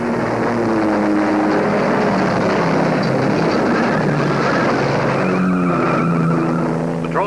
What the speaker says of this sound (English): Last car in road race has just passed our checkpoint.